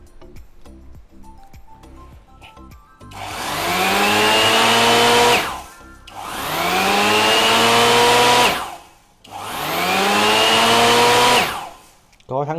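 Japanese 100V electric groove router fitted with a 21 mm bit, run in three separate bursts, each spinning up to a loud high whine, holding for a couple of seconds and then winding down, with clicks and handling noises before the first start.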